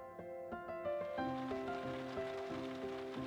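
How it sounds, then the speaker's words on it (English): Steady rain patter mixed with bright, plinking tones that ring out in a slow, stepping rhythm. ""It's raining," said Ben."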